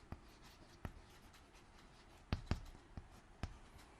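Handwriting during a Kashmiri tele-class English lesson, with scattered pen or chalk strokes and taps, a few sharper marks in quick succession, close and fairly quiet against a low background hiss.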